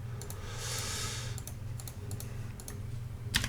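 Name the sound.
typing on a mechanical keyboard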